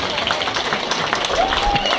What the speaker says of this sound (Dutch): Een applaus voor hem.